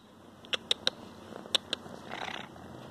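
A cat having its belly scratched purrs softly, with a few sharp clicky ticks over a low hum and a brief rustle near the end, no voices.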